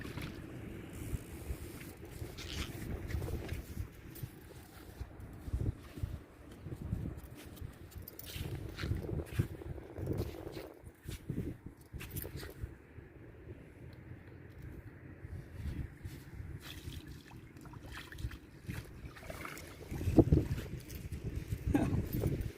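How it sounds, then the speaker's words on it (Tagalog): Strong wind buffets the microphone throughout, a continuous low roar with gusting surges, over the drone of a boat on open water. "Ang lakas ng lakas na ng hangin."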